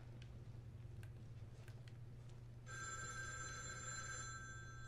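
A telephone starts ringing partway through in The Evil Within 2, a bright sustained electronic bell tone cutting in over a steady low game hum and sparse ambient clicks.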